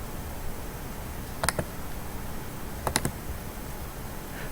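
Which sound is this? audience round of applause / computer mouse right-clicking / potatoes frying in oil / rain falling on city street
computer mouse right-clicking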